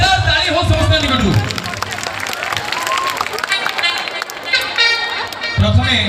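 Loud crowd applause and cheering at a local public event in Shankarpur, Cuttack, welcoming a guest, with a dense wash of claps and voices swelling across the whole stretch, and people talking through it.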